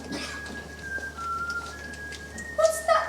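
A man whistles the Welsh song All Through the Night, a clear, sustained melodic line with held notes, moderately close, with a brief louder rise near the end.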